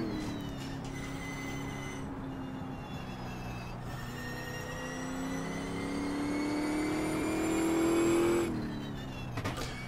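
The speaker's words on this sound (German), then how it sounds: "ich denke mal, das ist schon im Prinzip der gleiche Motor, der in der Corvette verbaut ist, in der C6R und der C7" Corvette C6R/C7-style V8 race car engine in the Automobilista sim racing game, a steady loud drone rising in pitch through acceleration, with brief shifts or lifts and a sustained high-revving run alone.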